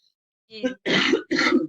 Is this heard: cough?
yes